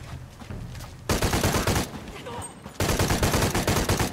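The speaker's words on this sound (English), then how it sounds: "how many people are shooting me?" Heavy gunfire from several enemies in the video game Shadow of the Tomb Raider, with dense bursts of rapid shots that start and stop in loud stretches over quieter game ambience.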